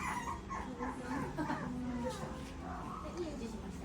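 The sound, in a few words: puppy in a pet shop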